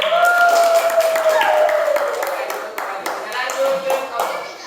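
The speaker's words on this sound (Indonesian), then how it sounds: "Tepuk tangan" Scattered hand claps from pupils in a classroom, sharp taps mixed with a ringing tone and voices talking over them, tapering off toward the end.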